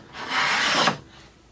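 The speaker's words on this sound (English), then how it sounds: "this is a number 605 corrugated that is, and this is a piece of maple that we're planing." A No. 605 corrugated hand plane takes a single stroke across maple on a workbench, giving a close, breathy shaving rasp that lasts about half a second and then trails off.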